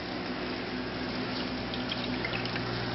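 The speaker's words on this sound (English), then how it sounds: "Just a little bit of air bubbles coming through." An aquarium intake and return pump runs steadily, pushing air bubbles through the water in a continuous close-up burble and gurgle with no pauses.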